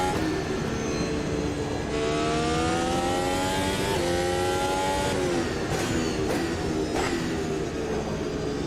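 Simulated Formula Ultimate 2022 V6 engine in Automobilista 2, loud and continuous, revving up through the gears with rising pitch and sharp shift drops near the end, no talk.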